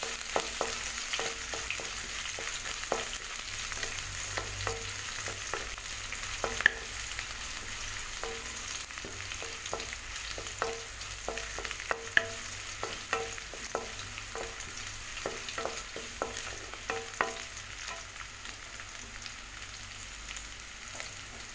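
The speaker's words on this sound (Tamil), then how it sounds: "வெங்காயம் நல்லா வதங்கிடுச்சு." Sliced onions sautéing in a pan for an okra stir-fry, a steady gentle sizzle with regular scraping stirs of a spoon through the pan, close and quiet, no voices.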